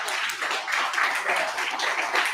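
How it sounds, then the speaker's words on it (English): An audience applauds as an award is presented at a bootcamp program review, a steady wash of clapping that holds moderately loud for a couple of seconds. "Everybody just want to give him a round of applause."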